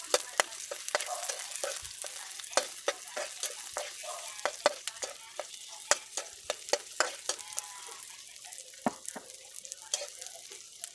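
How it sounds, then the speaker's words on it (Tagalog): Garlic and onions sautéing in a pan for chicken feet adobo, with a steady sizzle of frying broken by frequent sharp clinks and scrapes of a utensil stirring, close and moderately loud throughout. "Isayin na natin yung ating garlic. And then, isunod naman natin yung ating onions."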